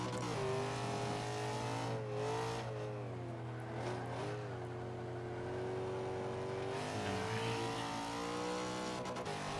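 A Nissan Silvia Spec R in the Forza 5 video game, its engine droning loudly and continuously with rising and falling revs as the car is driven, with faint tire noise and no talk.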